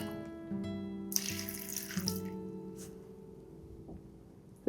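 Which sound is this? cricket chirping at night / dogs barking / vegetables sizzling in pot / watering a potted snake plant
watering a potted snake plant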